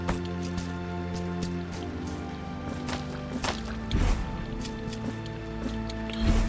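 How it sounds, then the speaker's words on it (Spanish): Steady rain falling in the video game Blasphemous II, a continuous patter of drops mixed with game music tones and occasional soft thumps, holding at an even level throughout. "en esta fase está lloviendo"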